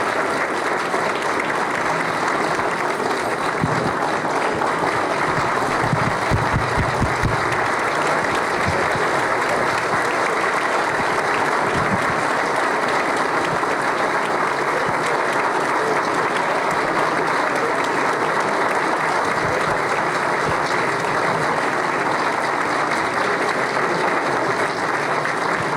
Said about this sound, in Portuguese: acho que as palmas já dizem tudo